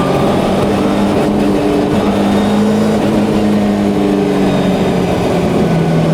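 A Subaru Impreza WRC rally car driven on a public road, its engine droning loud and close with rising and falling revs, a steady throaty roar filling the whole stretch without talk.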